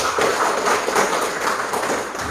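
A classroom of seventh-grade students applauding a student group, with a dense, continuous round of clapping at steady loudness through the short stretch.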